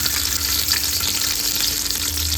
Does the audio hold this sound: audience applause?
no